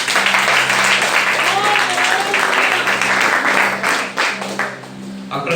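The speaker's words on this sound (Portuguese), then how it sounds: "Você pode aplaudir ao Senhor" A church congregation applauds during a worship service, a broad wash of clapping that holds steady for several seconds over a sustained low musical tone, then thins toward the end.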